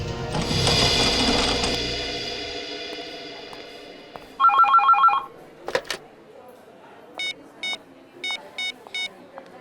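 A telephone at a hospital rings in short repeated electronic bursts after a loud mechanical clatter, the rings arriving in spaced pairs and groups, fairly close, with no talk.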